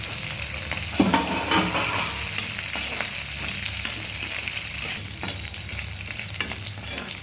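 Green chillies frying in oil in a pan for ridged gourd peel chutney, a close, constant sizzle broken by occasional stirring scrapes and light knocks, with no voices.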